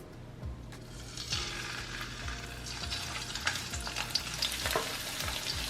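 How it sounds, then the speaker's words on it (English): Frozen peas and carrots fry in vegetable oil in a wok with a steady, close crackling sizzle, brightening into sharper pops as they are stirred and laid flat, with no talking. "We're gonna fry these while they're still frozen."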